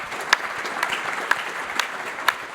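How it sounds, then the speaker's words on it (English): Conference audience applauding panellists at a financial-services event, a moderately soft, steady patter of clapping with a few sharper individual claps standing out. "I want to have a big round of applause for all of our panellists today."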